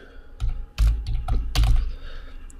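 Keys tapped on a computer keyboard while a new password is entered, a few irregular soft clicks and thumps in short clusters, close and fairly loud, with no talking.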